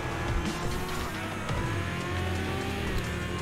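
Race cars lapping in the video game GRIP, with engines droning and revving continuously and shifting pitch as they speed along the track, loud and steady throughout.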